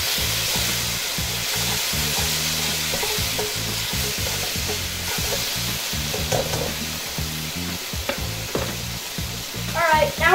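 Cajun shrimp with a teaspoon of seasoning fries loudly in a pan, a dense continuous sizzle under repeated scraping strokes of a stirring utensil, growing busier at the end.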